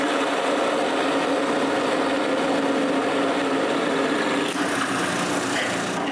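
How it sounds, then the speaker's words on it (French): A hole being drilled through wood for a wooden tripod, a loud, steady, high whine of a power drill running continuously up close, shifting slightly in tone near the end. "puis je perce le trou"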